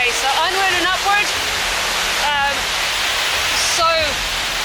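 A waterfall on the Four Waterfalls Trail in the Brecon Beacons roars as a constant broadband rush, with someone speaking in short bursts over it.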